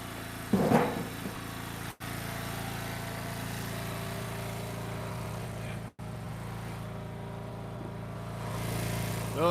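An engine runs at a steady idle during ash firewood splitting, a close, even mechanical drone with a faint whine that continues throughout, broken by two brief dropouts.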